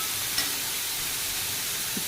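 Paneer cubes frying in a hot kadai give a soft, even sizzle with a small clink near the start, quiet and continuous, no speech.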